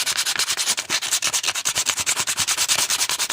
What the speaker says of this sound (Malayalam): ഉരച്ച് ഒന്ന് സ്മൂത്ത് ആക്കി എടുക്കുകയാണ്